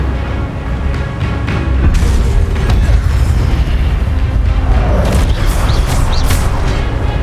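A fire spell cast in the Hogwarts Legacy video game gives a loud, continuous booming roar with whooshing bursts that swell midway and hold steady to the end, with no talk.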